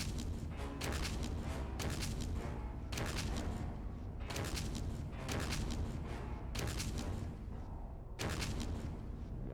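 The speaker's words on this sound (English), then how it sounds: "That's too big of an explosion." Explosions in the video game Danganronpa 2: Goodbye Despair, a string of about six heavy booming bursts at a regular pace, each followed by a crackling rumble, loud and continuous throughout.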